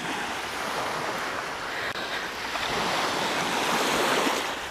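Sea waves wash onto a beach in Spain on a fairly calm day, a steady broadband surf wash with some wind rumble, continuous and moderately close with no talk.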